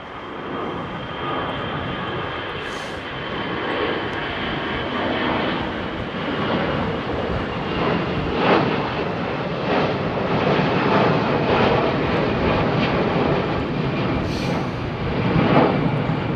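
A jet airliner takes off from Heathrow runway 27R, its broad engine roar swelling and holding strong for many seconds, loud and nearby, with some wind buffeting the microphone.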